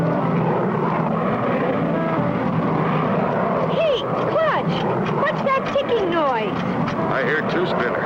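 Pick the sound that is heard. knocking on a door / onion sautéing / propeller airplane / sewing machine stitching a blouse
propeller airplane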